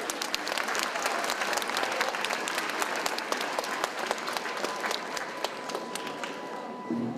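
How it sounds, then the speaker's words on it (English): An audience at East Boston High School gives a long, even round of applause for a guest, a dense wash of many clapping hands that holds steady throughout and thins slightly at the end. "how about a round of applause for Rochelle"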